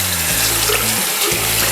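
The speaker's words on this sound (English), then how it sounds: "what we'll do is we'll wet the sponge down." Water runs steadily from a tap to wet a sponge for a wet palette. The rush is loud and close, with slight shifts in tone as the flow hits the sponge, and no one speaks.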